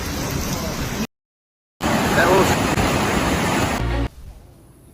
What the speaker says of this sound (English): giant waves,